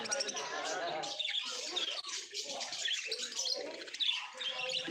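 Cage birds such as lovebirds and budgerigars chirp and tweet in busy overlapping calls at the Dankuni pet market, close by, with some voices and crowd murmur mixed in.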